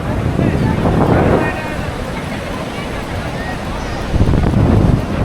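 Surf and gusting wind at Rushikonda beach in Vizag, a steady broadband roar with buffeting against the microphone, swelling louder near the start and again at the end, with faint voices mixed in.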